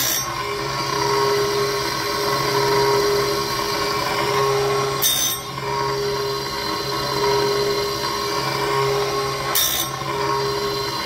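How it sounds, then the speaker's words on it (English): Chainsaw mounted on an Alaskan chainsaw mill ripping through cedar, a loud, continuous droning engine whine with steady tonal hum and two brief sharp high bursts along the way. "The chainsaw starts. It's on the mill."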